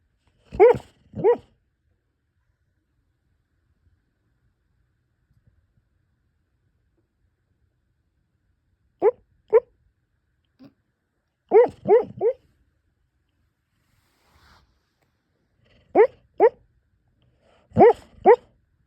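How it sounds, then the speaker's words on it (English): An elderly 13-year-old dog barks softly in her sleep while dreaming, giving short paired woofs and muffled yips in scattered bursts separated by long quiet gaps, close by. "My dog is sleeping here dreaming, and she's so cute, and she's 13 years old, and she still dreams and barks like a little puppy when she dreams"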